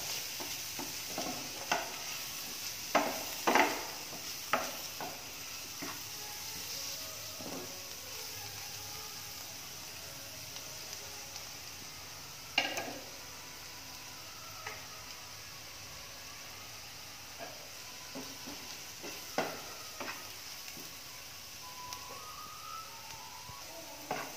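A spatula stirs beef cutlet mixture with garam masala and turmeric in a pan, giving faint, intermittent scraping taps over a low background hiss for the whole stretch.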